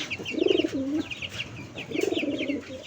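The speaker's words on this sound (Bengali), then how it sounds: "এই যে আমার ধরা কবুতরটা," A caught pigeon coos twice up close, each a low rolling burst, the second after a short pause.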